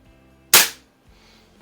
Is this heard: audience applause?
no